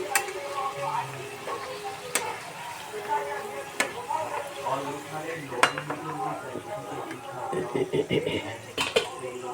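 Pea kachoris fry two at a time in hot oil over lowered heat, giving a steady sizzle with scattered clicks and pan clatter, and voices murmur in the background throughout.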